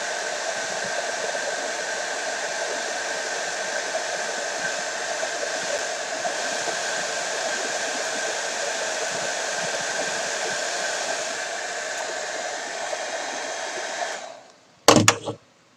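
A heat gun blows hot air onto an Academy Merkava Mk III model kit to help a part shrink, a steady, even whoosh that holds for about fourteen seconds before cutting off with a brief clatter.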